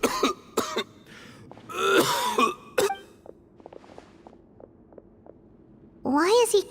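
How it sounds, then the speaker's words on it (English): A character in Genshin Impact coughs and clears his throat in a few short, harsh bursts, close and loud, separated by quiet gaps with faint game sounds. "Why is he coughing so much?"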